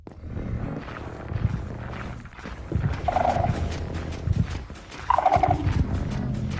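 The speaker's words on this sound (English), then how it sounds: "they're distracted by this noise machine" In Minecraft, a noise machine built to distract the Warden gives off a stream of busy, clattering game sounds, with a couple of brief tonal blips standing out among the steady, fairly quiet layered effects.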